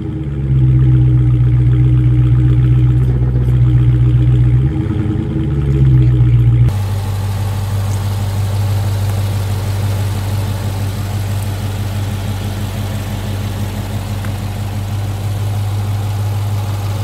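A 2018 Dodge Charger Scat Pack sedan's 6.4 liter V8 idles with a deep, steady rumble, a brief rev bump early on, then settles into a lower, even idle heard close for the rest; no talking.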